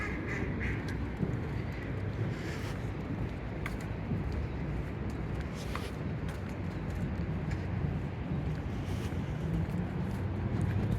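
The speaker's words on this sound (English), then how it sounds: "you get to see ducks and geese" Ducks and geese quacking outdoors over a constant rush of wind and ambient noise, the calls scattered and moderately distant, in Centre County, Pennsylvania.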